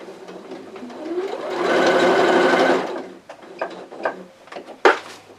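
A sewing machine stitching back and forth across a seam of a pillowcase baby dress, a steady whirring run that swells and fades, followed by a few close clicks and knocks of fabric and machine handling.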